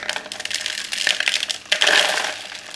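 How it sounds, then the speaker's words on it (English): An orchid is pulled slowly out of a pot filled with small pumice and a little leca, giving close, gritty scraping and crunching with brief rattles of loose stones, and a louder rasp toward the end. "Slowly and gently getting it out of the pot."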